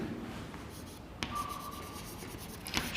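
Writing on a classroom board, heard as faint scratchy strokes and a couple of sharp taps over a quiet room background.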